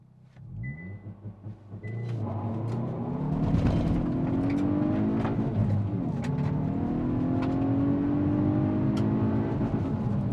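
A 2022 Hyundai i20N hot hatch makes a launch-control start: idle and brief revs give way to a loud, sustained engine roar climbing through the gears, heard close from inside the cabin.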